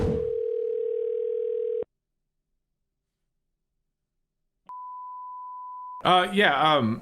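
A telephone call to a coin shop: a steady dial tone holds for nearly two seconds, then silence, then a single continuous ringback tone, until a voice begins answering.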